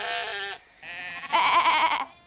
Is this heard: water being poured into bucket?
no